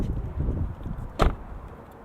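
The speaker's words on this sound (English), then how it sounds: "So now we'll go ahead and pop the hood." Hood release on a 2022 Mazda CX-30 2.5 S Premium with a 2.5-liter four-cylinder engine: a single sharp pop-clunk stands out near the middle, close and fairly loud, over soft cabin rustling.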